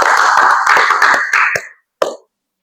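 A class applauds with a dense burst of clapping that lasts about a second and a half, then trails off into a few scattered claps and one last single clap.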